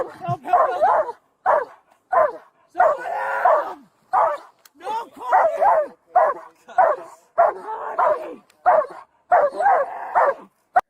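A police dog barks repeatedly, in loud, close, evenly spaced bursts with some whimpering yips, over about eleven seconds.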